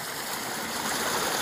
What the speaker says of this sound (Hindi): ये देख सकते हैं आप, पानी आ रहा है ऊपर से।